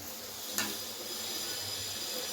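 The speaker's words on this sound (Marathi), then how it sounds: "चला तर आता फ्राय करूया वडे।" Vadas deep frying in hot oil, giving a steady, soft sizzle and hiss with one brief sharper crackle early on, and no talking.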